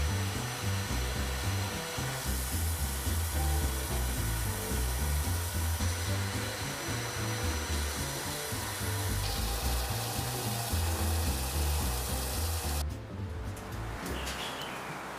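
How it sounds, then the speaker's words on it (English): A belt sander whirs steadily at close range, its grinding hum pulsing unevenly as pieces for a Rubik's Cube build are pressed against it; no talking. "I took all of the pieces over to my belt sander and I sanded them all down"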